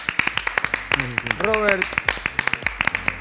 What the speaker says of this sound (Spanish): Señores, el aplauso para